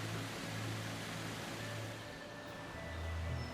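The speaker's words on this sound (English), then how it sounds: "The sound of water falling from the sky" Angel Falls in the Venezuelan rainforest, heard as a steady, faint, even wash of falling water with a soft low rumble beneath, unbroken and without voices.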